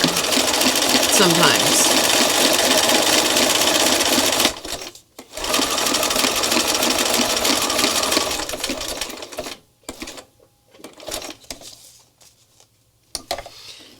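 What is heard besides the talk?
Bernina sewing machine stitching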